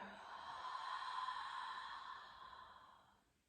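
A long, deep exhale during a guided yoga relaxation, a steady breathy rush that swells and then slowly fades out over a few seconds, close and alone.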